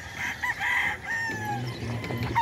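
Chickens cluck and a rooster crows on a farm, a drawn-out nearby crow followed by lower clucking and a second rising call, fairly loud against light background noise.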